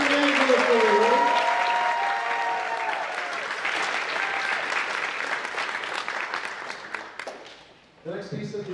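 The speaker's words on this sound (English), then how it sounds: "Another round of applause for our freshman concert band and Mr. Stanley Glasser." Audience applause for a freshman concert band and its conductor at a university high school band concert, sustained and dense across the clip, with an announcer's voice over it at the start and returning as it fades.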